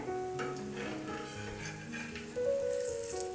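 A bathua cutlet fries in a little oil on a pan over a simmering flame, giving a steady close sizzle throughout with light scraping and tonal clinks from cookware, no voices.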